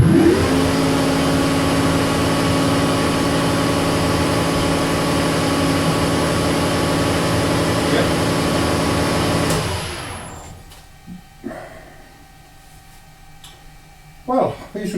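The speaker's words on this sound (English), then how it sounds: "it's a good idea to run the lathe while doing this" A metal lathe running while the tailstock is adjusted, a loud steady hum with a high whine for about ten seconds before spinning down and stopping, leaving quiet workshop handling sounds.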